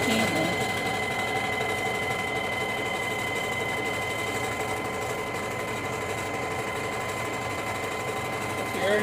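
A sewing machine runs steadily, stitching fabric pieces together with a continuous buzzing whir at close range, while someone talks over it.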